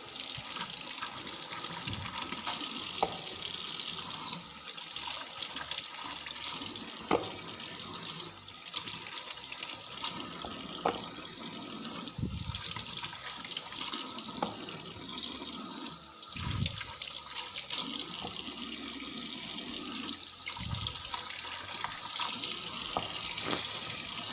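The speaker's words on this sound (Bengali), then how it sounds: "তো কিছু মালটা ধুয়ে নেই।" Malta oranges rinsed under a running kitchen tap, with a steady rush of water splashing into a sink and occasional knocks of fruit being handled, continuous and close for the whole stretch.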